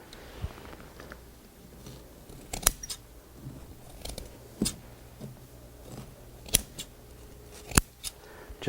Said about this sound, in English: We take our scissors.